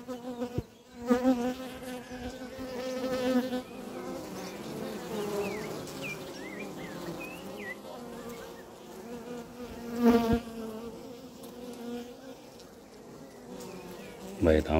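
Honeybees swarm over a partly built hive frame, a steady close buzzing drone with wings flicking past, while someone speaks intermittently.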